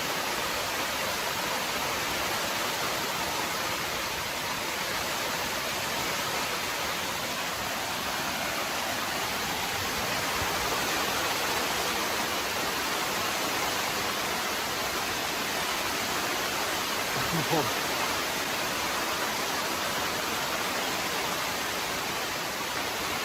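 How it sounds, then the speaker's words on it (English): Heavy rain pounds a tent at night during a thunderstorm, a dense, steady roar of drumming water close and loud throughout, with no voices. "That's a lot of rain."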